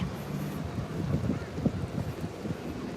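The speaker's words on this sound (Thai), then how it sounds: "แต่ลมแรงนะ วันนี้ลมแรง" Strong gusty wind buffets the microphone outdoors on a cold day during a walk, a steady low rumble with bursts throughout and no speech.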